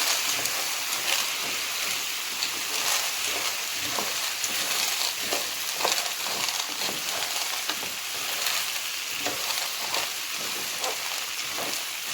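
Orzo pasta is stirred in a pan over the heat, a steady close sizzle with soft scraping and rustling strokes of the spoon running throughout.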